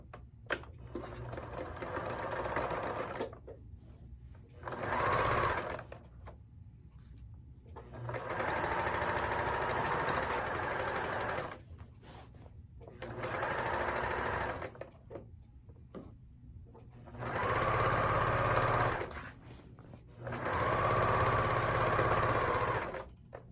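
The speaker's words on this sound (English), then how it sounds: "And now I'm going to stitch down the sides." Sewing machine stitching down the sides of a pillowcase, running in six steady bursts of varying length with brief quiet pauses between, close and clear with no talk.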